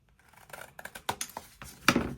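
Scissors snipping through folded paper along a drawn line, a quick series of close crisp cuts that grow louder toward the end.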